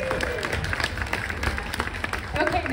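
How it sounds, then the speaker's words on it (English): An audience at a historic preservation event in Oakland applauds, a dense patter of many hands clapping with scattered cheers while someone speaks over it. "Do it now. Applaud each other."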